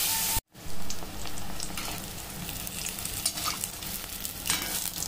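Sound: batter-coated bread bajji frying in oil

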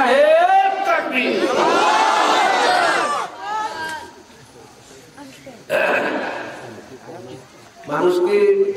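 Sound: crowd chanting Allahu Akbar in response to takbir call

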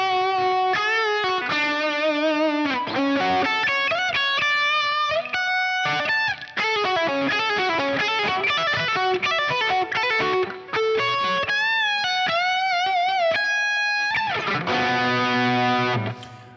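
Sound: guitar solo

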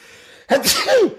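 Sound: sneeze

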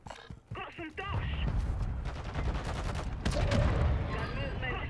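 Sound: shotgun gunfire in the video game Warzone 2

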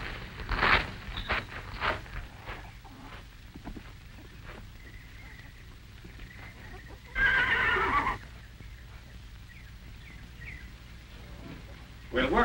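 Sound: horse neighing and hooves clip-clopping

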